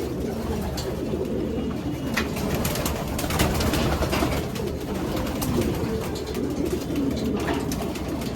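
Domestic pigeons coo steadily nearby while eating a calcium supplement, a continuous soft throaty cooing with overlapping calls and faint background rustling.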